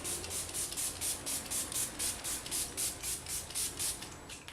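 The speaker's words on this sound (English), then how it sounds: "This is just the Milani Make It Last setting spray." Milani Make It Last setting spray misted in about fourteen quick, evenly spaced bursts, each a short bright hiss close to the microphone, with no talking.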